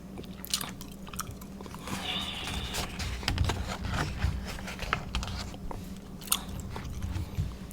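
Close, moist gum chewing repeats in an irregular rhythm of soft smacks and clicks, mixed with occasional paper rustles as magazine pages are handled, with no talking.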